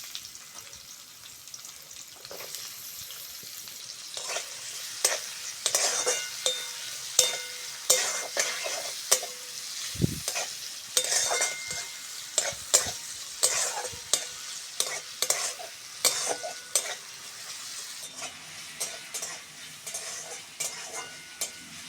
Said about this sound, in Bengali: তেলের মধ্যে দিয়ে দেবো কুচনো পেঁয়াজ।